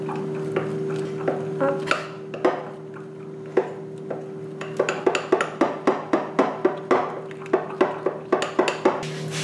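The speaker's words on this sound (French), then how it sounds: "je vais rajouter le lait encore chaud avec la gélatine, tout en mélangeant" A spoon clinks rhythmically against a bowl while hot milk with gelatin is stirred into a chocolate mousse mixture, first sparse taps, then quick regular knocks, with background music and a brief spoken word.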